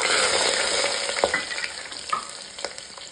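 Coarsely chopped onion with bay leaf, green and black cardamom and cinnamon fries in hot ghee for a cauliflower-pea tahri, a loud, steady close sizzle broken by a few scraping stirs.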